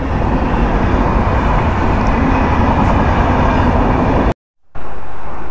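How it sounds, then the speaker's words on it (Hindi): The Howrah Purulia Express passes close by with a loud, continuous rumble and rattle of rail cars that cuts off abruptly near the end. "हावड़ा पुरुलिया एक्सप्रेस।"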